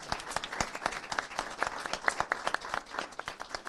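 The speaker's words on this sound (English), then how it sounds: "can we please give a round of applause to Moreno Valley citizens?" A crowd at a City of Moreno Valley recognition event applauds steadily, dense overlapping claps filling the whole stretch at moderate volume.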